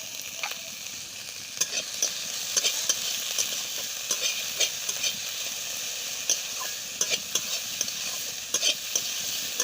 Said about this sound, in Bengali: যেহেতু লবণটা দিয়েছি তাই টমেটো তাড়াতাড়ি ভাজা হয়ে যাবে, পেঁয়াজও তাড়াতাড়ি ভাজা হয়ে যাবে।